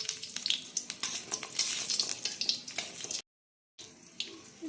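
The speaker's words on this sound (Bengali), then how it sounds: "ডালের বড়ি ভেজে নেওয়া হবে।" Lentil dumplings (dal bori) fry in hot mustard oil in a kadai, making a bright, crackling sizzle up close that stops briefly and then carries on.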